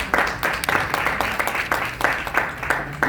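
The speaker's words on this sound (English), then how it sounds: "Round of applause for Miss Nancy." Audience applause for Nancy Moodley at the Tropic Summit, a steady patter of many hands clapping at moderate loudness with some uneven bursts throughout.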